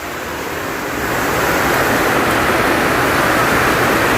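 Dense, steady roaring hiss of heavy typhoon rain pours continuously, loud and close, spraying against a wall, swelling slightly in the first second.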